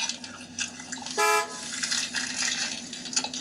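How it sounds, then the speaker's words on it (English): A single short car horn honk sounds amid busy outdoor street noise and background clatter. "And then he's honking the horn"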